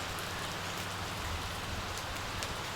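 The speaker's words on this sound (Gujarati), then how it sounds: "ભાઈ વરસાદ ફૂલ આવે છે" Heavy monsoon rain pours steadily and close, a dense unbroken hiss of drops hitting surfaces, with no voices.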